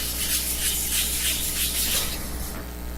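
A tool is pushed back and forth across a 250-grit sharpening stone, making close, rhythmic rasping strokes at a steady pace with no talking.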